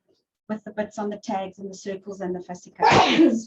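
A single loud, sharp sneeze bursts out right after someone speaks steadily during a crafting class, close and clear at the end.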